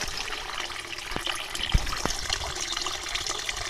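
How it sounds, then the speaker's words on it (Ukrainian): Water trickling and splashing in a small garden pond, a continuous close babble with a few brighter drips and plops, no talking heard. "Водичка біжить."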